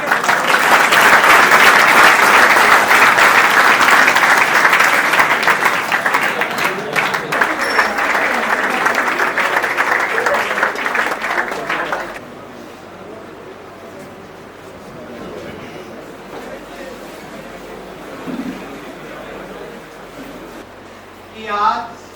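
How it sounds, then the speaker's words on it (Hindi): Loud, dense audience applause fills a hall at an academy's 18th foundation day celebration in Mahendergarh. It rolls steadily for about twelve seconds, then cuts off into a quiet room with a few faint stray sounds. "इसके आगे भाई तालियां बजा के"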